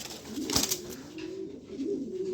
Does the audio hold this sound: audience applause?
no